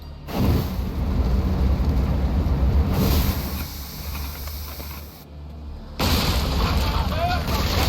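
Ship crew firing a volley in Assassin's Creed Odyssey, a booming burst of cannon fire with hissing rush that rolls on for a few seconds, then a second loud blast, with voices speaking over the game sound.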